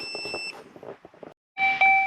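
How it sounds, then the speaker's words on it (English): Electronic chime-like beeps from a 2015 Dodge Journey during a diagnostic code scan, a short tonal beep near the start and a louder sustained tone at the end, with soft background sounds between. "excuse the beeping. It's not going to go away."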